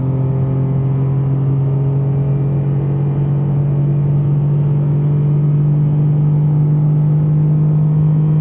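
A Citroen C1 petrol engine without a turbo drones steadily in second gear, a constant low hum and rumble heard from inside the car with no speech.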